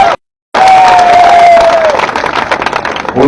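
A large crowd at a political rally in India claps and cheers loudly for young people who rode motorcycles to a toll, with a sustained wash of applause and a single whistle rising above it.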